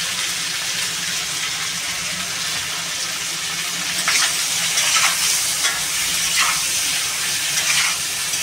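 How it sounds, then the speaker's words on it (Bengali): Papaya pieces sautéed in a frying pan for a Bengali papaya and potato curry with rita fish, giving a steady close sizzle with occasional stirring scrapes and no talking. "এটা ভালো করে একটু পেঁপেটা কষাবো"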